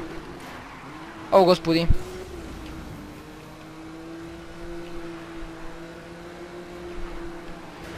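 A race car engine in the Need for Speed video game hums and drones steadily with small revs as the car drives, while a man briefly exclaims over it.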